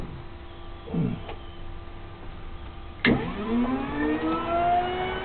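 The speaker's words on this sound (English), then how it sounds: "it's set on 1200 RPMs, and what I found out was the bearings are making a chirping noise once in a while" An electric motor wired to a single 120 V AC supply through a PCB, set to 1200 RPM, starts abruptly with a sharp onset and settles into a steady rising whine of clear tones, heard close with no talking.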